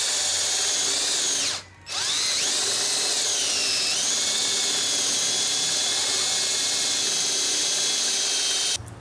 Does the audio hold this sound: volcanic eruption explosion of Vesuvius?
no